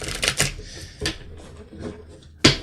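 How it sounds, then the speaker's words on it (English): Tarot cards being shuffled by hand, a few quick riffling bursts near and then one sharp flutter at the end, with a quiet pause between. "They're still shuffling these cards here"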